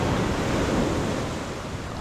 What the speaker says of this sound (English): some of the waves coming in today are pretty big